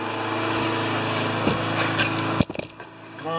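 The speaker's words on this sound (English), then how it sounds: "That noise you hear is I'm testing a lawnmower." Craftsman lawnmower engine running during a test, a steady loud droning buzz that cuts out abruptly near the end, followed by a few clunks and quieter background.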